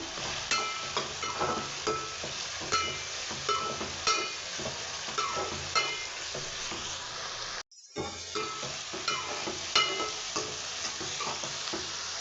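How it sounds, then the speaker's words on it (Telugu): Chopped green chillies and curry leaves frying in oil for a chicken dish, a steady close sizzle with regular stirring knocks and one brief silent dropout partway through. "ఒక రెండు మూడు పచ్చిమిర్చి కట్ చేసి వేసిన ఒక రెండు రెమ్మలు కరివేపాకు ఇది కలుపుకుందాం ఇక్కడ ఫ్రై అవుతుంది"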